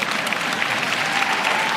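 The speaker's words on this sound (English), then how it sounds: "somebody ought to clap on that" An audience clapping steadily throughout, a dense even wash of applause from a crowd at a motivational talk, sustained without a break or any speech.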